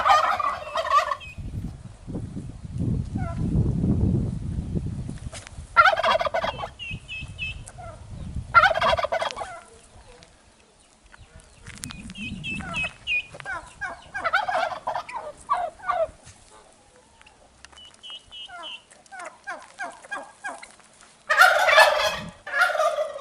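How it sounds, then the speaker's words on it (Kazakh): A domestic turkey gobbles repeatedly in loud, rattling bursts separated by short pauses, with a low rustle in places and no speech. "Күрке тауық."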